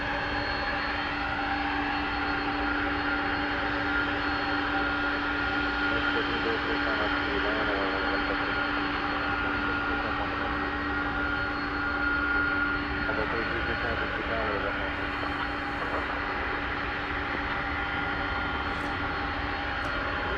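A trijet airliner taking off at DFW Airport, heard from the west side at night: a continuous distant jet engine roar with a steady hum, holding level throughout with no pauses.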